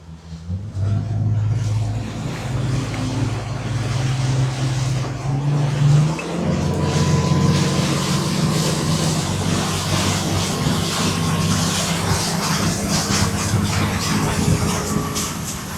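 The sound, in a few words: boat engine running out to the buoy channel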